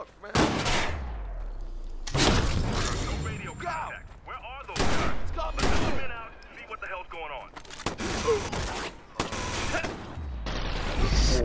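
Loud, close bursts of gunfire in the video game Watch Dogs, heavy shots arriving in repeated clusters separated by short gaps, with someone talking between and over them.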